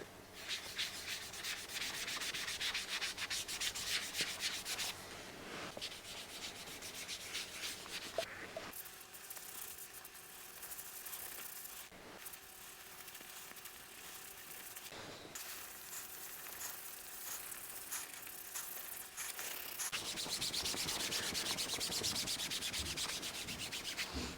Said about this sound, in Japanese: ソールステインを塗ってよく拭いて、そしてこすって磨いてこんな感じになりました。